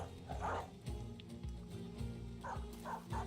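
A dog in the Battle Brothers medieval combat video game gives several short barks and yips during a fight, set against a steady background music bed.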